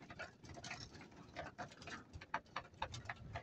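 Pigeons moving about inside a loft, soft irregular pattering and fluttering with faint cooing, close and quiet with no talk.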